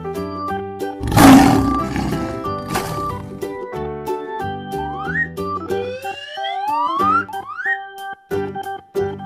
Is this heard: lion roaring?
yes